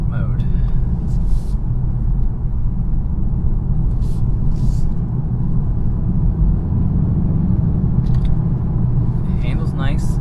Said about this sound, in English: pumps engine noise into the cabin, which is a BMW thing they've done over the past few years